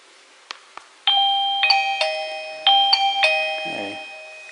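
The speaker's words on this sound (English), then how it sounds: "we're gonna press the doorbell button to send the pairing signal" Mubview wireless doorbell chime ringing with a bright multi-tone melody, two clear sequences of ringing notes following a couple of soft button clicks, close and clean in a quiet room.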